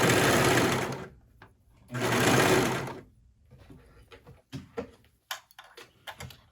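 A sewing machine stitches leggings fabric in two fast, loud bursts of rapid whirring, each about a second long, followed by quieter clicks and handling noises as the fabric is adjusted.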